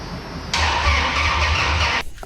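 A second-generation Dodge RAM 1500 truck with a swapped HEMI engine cranks and catches at about half a second, running loud and rough with a low throbbing rumble, then cuts off abruptly near the end.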